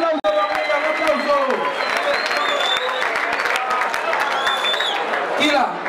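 A crowd applauds and cheers at a Colombian national final freestyle rap battle, dense loud clapping filling the venue while a host's amplified voice and shouts rise over it.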